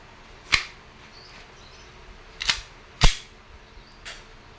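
A WE Airsoft 2011 Hi-Capa T-Rex gas pistol fires four separate sharp cracking shots at uneven intervals, each a short snappy pop, the last one quieter.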